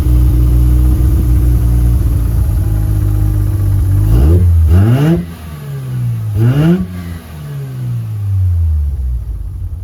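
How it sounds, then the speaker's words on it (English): Hot start of a Mazda 13B rotary engine with Fitech EFI, followed by a steady idle and two sharp revs that climb and fall back, loud and close, with no talking. "I shut it off, so I'm going to show you a hot start."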